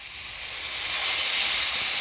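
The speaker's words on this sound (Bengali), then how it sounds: "কষানো শেষ, এখন আমি জলটা দিয়ে দিলাম।" Hot water poured into a pan of fried flat beans and potatoes sets off a steady, loud sizzling hiss that swells and holds for a couple of seconds with no voices.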